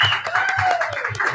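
A brief burst of audience applause at a stage show as the host comes on, with scattered claps under a voice speaking over it.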